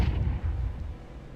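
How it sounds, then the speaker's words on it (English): A flashbang grenade goes off in a video game, a loud, heavy booming burst that trails off over about a second. "Deploying flashbang."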